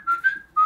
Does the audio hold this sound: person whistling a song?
yes